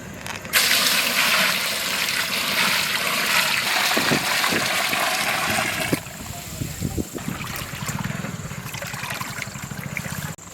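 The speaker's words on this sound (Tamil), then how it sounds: "பிரியாணிக்கு தேவையான அளவு தண்ணியை சேர்த்துக்கொள்வோம்." Water pours steadily into a pot of duck biryani with basmati rice, a loud continuous splashing gush that gives way to lighter trickling and stirring sounds.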